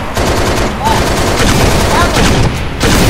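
Halo: Reach gunfire during a campaign mission, loud, dense and continuous bursts of automatic weapons fire with heavy booming and little let-up.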